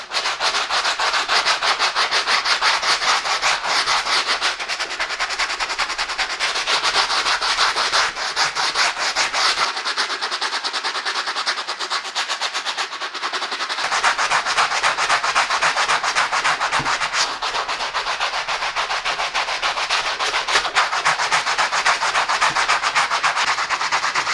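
Steady brushing on the midsole of white Nike Air Force 1 sneakers, a continuous bristly rub that runs nearly unbroken, close and loud, with a brief lighter stretch partway through.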